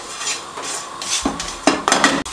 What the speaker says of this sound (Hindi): इनको अच्छे तरीके से हम रोस्ट कर लेंगे